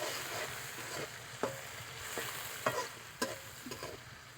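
Prawns frying in oil with chili give a faint, low sizzle broken by a few sharp clicks and stirring knocks.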